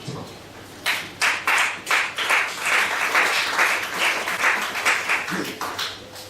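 Scattered audience clapping at a church service, starting as a few separate claps then thickening into steady applause from a small crowd, with a low hum underneath.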